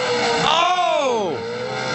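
A Toyota off-road race truck, blue and white, skids through a turn with engine pitch sweeping sharply up and down in curving whines, loud and close, while a commentator talks over it.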